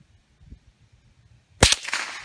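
A single sharp gunshot from a live firearm on a training range rings out close and loud, its report decaying briefly after a quiet lead-in.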